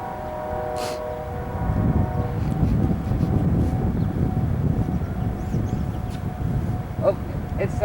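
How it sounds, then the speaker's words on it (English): A passing plane near a rail line in Pleasanton, California gives a steady broadband rumble that swells and holds, with a faint tonal whine early on and brief voices near the end. "it's that plane right there making that noise."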